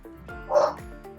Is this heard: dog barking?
yes